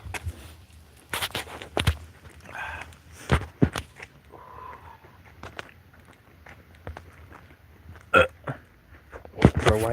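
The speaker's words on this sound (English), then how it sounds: "why did I just burp after taking a blinker?" A loud burp rings out on an outdoor nature trail amid scattered footsteps and brief bursts of other sounds, with people talking at moments.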